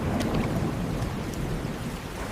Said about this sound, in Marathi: क्षणात जोरदार पाऊस सुरू झाला.